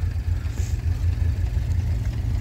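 A vintage car engine idles at a veteran car rally in 4°C weather, with a low, steady rumble and faint rattling, close by and continuous for a couple of seconds.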